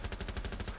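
Automatic gunfire in Rainbow Six Siege rattles out as a quick, evenly spaced burst of about eight close, punchy shots in under a second.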